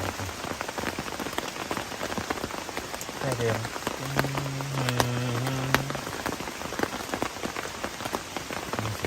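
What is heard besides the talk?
rain falling on a mountain campsite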